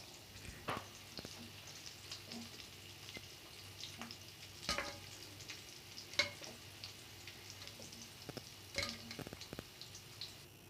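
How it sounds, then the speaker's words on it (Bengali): Egg chops (egg devils) deep-frying in oil as Kolkata street food, a faint steady sizzle with scattered crackles and small pops, no talking. "গোল্ডেন কালার হওয়া অবধি ভেজে তারপর আমরা নামিয়ে নিয়ে সার্ভ করে দেব"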